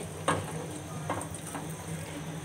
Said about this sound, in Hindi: जी, ऑयल जो है मैंने डाल दिया है, इसमें सूजी भी जो है ऐड कर दी है और इसको हम सही से भूनेंगे।